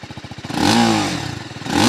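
A TVS Apache RTR 310 motorcycle exhaust putters in a rapid, uneven idle, then briefly revs up louder before settling and rising again, heard close by.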